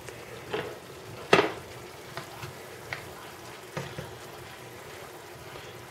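Keto food cooks in a home pan with a soft, steady sizzle, marked by a few sharp clinks and scrapes of stirring, one louder knock standing out early.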